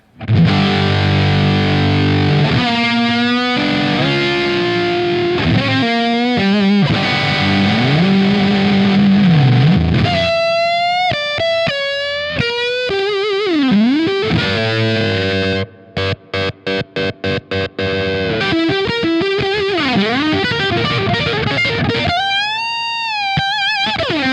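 Electric guitar through a Dumble-style amp with the gain turned all the way up, heavily distorted sustained notes and bends, then fast choppy stabs and bright lead lines, loud and continuous.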